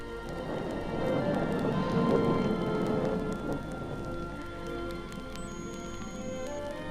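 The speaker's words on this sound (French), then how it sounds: "Il pleut." Rain patters steadily, swelling briefly louder midway, with soft tonal background music running underneath.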